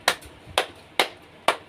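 Four crisp, evenly spaced hand claps in a primary school classroom, close and loud with short quiet gaps between them, no voices heard.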